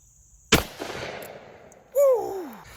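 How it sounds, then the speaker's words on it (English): A single loud, sharp shot from a Taurus Ultralight .44 Magnum revolver cracks nearby, followed by a lingering echo and then a brief whoop of excitement from a person. "Now for a 44 mag. This one is going to pack a punch out of this Taurus Ultralight. Let's take that shot"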